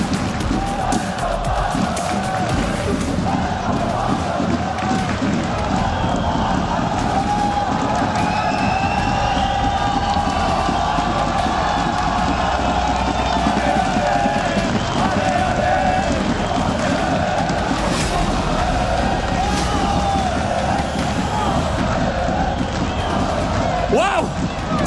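A huge esports arena crowd roars and cheers continuously at the Rocket League grand final, with dense loud noise throughout and commentary partly audible beneath it.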